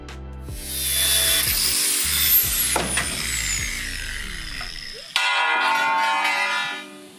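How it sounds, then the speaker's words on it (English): Disabled handrails being cut off a 1978 Quintrex Fish-Finder aluminium boat with a power cutting tool, a loud, sustained grinding and ringing metallic whine with a sweeping pitch, then a sudden sharper burst near the end. "cut the disabled handrails off"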